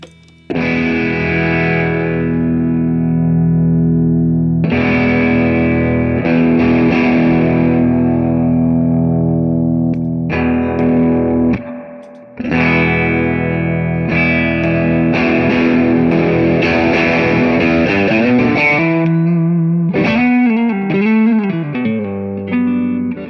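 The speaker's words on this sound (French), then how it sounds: "la plupart de ces effets ont ce truc-là d'avoir l'attaque qui sature et le reste qui est plus clean derrière." An electric guitar played through a Dumble-style drive pedal gives loud chords and single notes with saturated, distorted attacks and sustained tails, including a few bends, with brief pauses between phrases.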